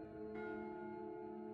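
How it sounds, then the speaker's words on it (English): A bell clangs three times in quick succession over the public address system on an oil rig, each clang ringing loudly with a long sustained tone and no talk around it. "a bell rang over the PA system. 3 loud clangs,"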